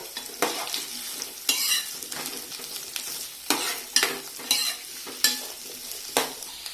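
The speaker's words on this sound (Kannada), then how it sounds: "ಮೆಣಸಿನಕಾಯಿ ಇದೆಲ್ಲ ಬ್ರೌನ್ನಷ್ಟು ಫ್ರೈ ಆದಮೇಲೆ ಈರುಳ್ಳಿನ ಹಾಕಿ ಫ್ರೈ ಮಾಡಬೇಕು." Onions and green chilies fry in hot oil for toor dal fry, giving a continuous crackling sizzle broken by repeated sharp scrapes and clinks of a spoon against the pan.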